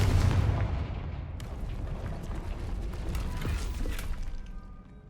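The Confringo fire blast spell in the Hogwarts Legacy video game, a loud burst followed by crackling, rattling mechanical clatter that gradually fades out over several seconds, no talk.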